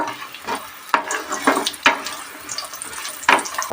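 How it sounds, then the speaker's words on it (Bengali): Bori fry in hot mustard oil for shukto with a steady, hissing sizzle. Sharp clinks and scrapes of stirring cut in several times. "বড়িগুলো লাল লাল করে ভেজে নেব।"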